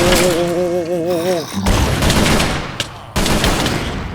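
Video game gunfire, bursts of rapid shots and cracks in a loud, cluttered battle mix with a warbling tone early on, one sharp break and then a fresh burst near the end.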